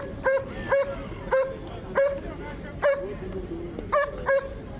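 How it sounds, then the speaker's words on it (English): Police dogs barking in repeated sharp bursts, roughly seven barks at an even pace, moderately close with a steady background hum and murmur beneath. "Fierce-looking dogs,"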